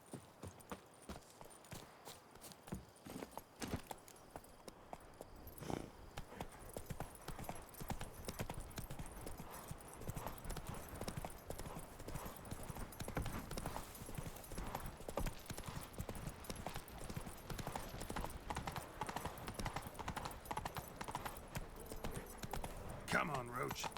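Hooves of the horse Roach in The Witcher 3, a steady rapid clip-clop of galloping that runs throughout, with a voice talking over it at times.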